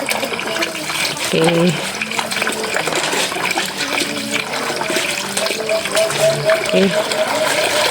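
Water gushes and flows continuously, a steady broad rushing noise under a voice saying a couple of short words.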